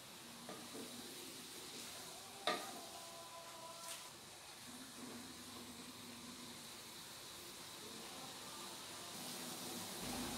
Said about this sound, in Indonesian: Ini kita masak sampai kangkungnya matang